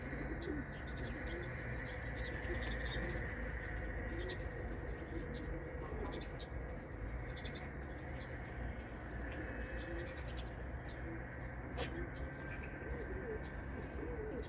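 Pigeons coo steadily in a loft or yard, with birds chirping around them; the sound is continuous and fairly close against constant background noise, with no clear talk.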